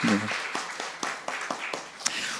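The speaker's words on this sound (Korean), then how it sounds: "우리 인사하고 들어갈 때 격려의 박수 하겠습니다" Church congregation applauding in encouragement as young members head off to military service, with several scattered claps spread across a short stretch and a voice talking over the start.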